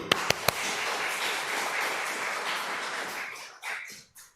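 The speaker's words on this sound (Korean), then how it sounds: "박수!" Worshippers at a Seoul police Christian mission's Wednesday noon service begin with a few sharp separate claps. These swell into dense, sustained applause that thins and fades out near the end.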